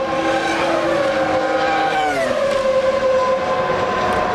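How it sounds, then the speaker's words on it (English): A 1995 Ferrari Formula One car pulling into the pits at the British Grand Prix at Silverstone, its loud, steady engine whine dropping in pitch as it slows, close and continuous throughout. "Alesi brings the Ferrari in for pit stop number 2."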